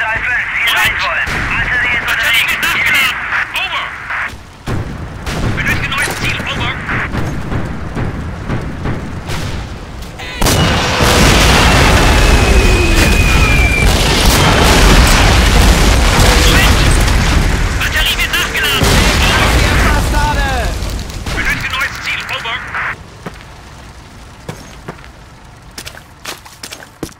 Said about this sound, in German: Brauche Artillerie auf Position 642.